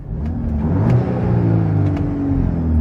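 A Volkswagen Golf R MK8 engine revs steadily in special mode with the exhaust valve fully open, giving a loud, continuous, throaty drone that rises and holds close to the microphone.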